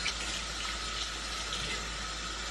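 Hot water runs steadily from a tap into a sink to wet a makeup sponge, giving a continuous close hiss and splash with no talking.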